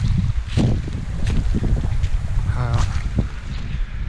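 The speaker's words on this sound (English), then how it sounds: "It's definitely a lot more windy out here." Strong wind roars and buffets the microphone in low rumbling gusts on a trail in Allegheny National Forest, with faint brief sounds poking through the constant blustering.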